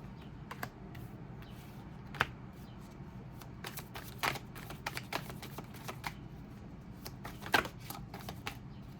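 Tarot cards shuffled and laid out by hand during a reading: a soft, steady riffling hiss broken by a few sharp snaps and slaps as cards are dealt, close and quiet with no talking.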